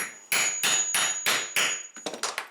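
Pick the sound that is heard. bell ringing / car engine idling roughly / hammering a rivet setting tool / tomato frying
hammering a rivet setting tool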